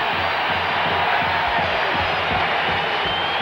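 A basketball arena crowd roaring and cheering at a Purdue versus Penn State Big Ten men's game in 1998, a steady loud wash of voices with thumping underneath.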